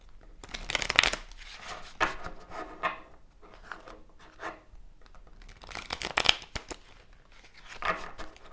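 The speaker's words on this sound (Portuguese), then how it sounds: "Vou baralhar agora" A tarot deck being shuffled by hand, with two bursts of riffling card noise around the start and again near the end, quieter card rubbing and handling in between, close and alone with no talk.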